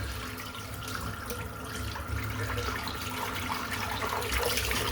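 Tap water runs steadily as a plastic soap tub is rinsed out in a sink, a continuous close splashing hiss with no voices.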